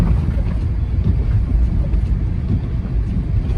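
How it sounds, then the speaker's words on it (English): A car drives through a blizzard in New York, its low steady road and engine rumble mixed with buffeting wind noise on the microphone, constant and fairly loud throughout. "And I'm driving in the blizzard"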